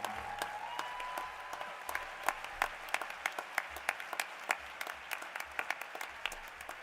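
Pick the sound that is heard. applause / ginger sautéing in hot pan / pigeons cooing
applause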